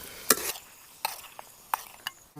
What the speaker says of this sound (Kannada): ಉಳಿದ ಈರುಳ್ಳಿ ಹಾಕೊಂಡು ಒಂದು ಸತಿ ಮಗ್ಸಿ ತಗೋ ಸಾಕು